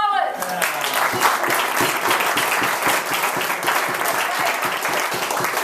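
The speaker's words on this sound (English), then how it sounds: "Let's hear it for Steve Collins" A Toastmasters roast audience breaks into sustained, dense applause that stays loud and even for several seconds, with a voice briefly audible at the start.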